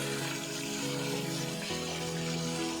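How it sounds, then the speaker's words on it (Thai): Artificial waterfall curtain pouring into a koi pond, a steady close wash of falling water with a broad hiss that runs continuously and evenly throughout, with no voices. "อันนี้เป็นเสียงที่ท่านได้ยินก็เป็นเสียงของน้ำตก"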